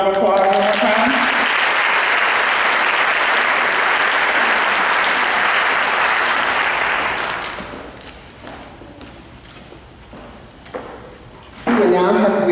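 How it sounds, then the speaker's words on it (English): At a pinning and recognition ceremony, an audience gives a loud, sustained round of applause that tapers off into scattered claps and footsteps before a speaker's voice resumes. "let's give them all a round of applause one more time"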